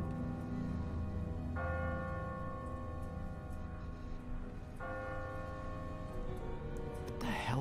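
Church bell tolling in The Walking Dead video game, two sustained rings each starting abruptly and ringing out with long harmonic decay over a steady low rumble of background noise.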